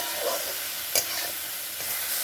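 Onions frying in an uncovered pan over a high flame, a steady hissing sizzle with a brief clink of utensil partway through, close and unbroken by talk.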